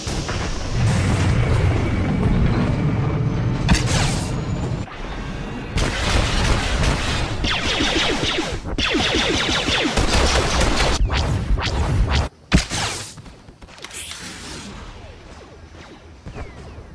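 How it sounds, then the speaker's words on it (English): Bursts of artillery booms and gunfire from a Star Wars: The Old Republic battle, loud and dense, with heavy impacts and whooshes coming in waves and brief gaps between the barrages. "Enemy artillery incoming!"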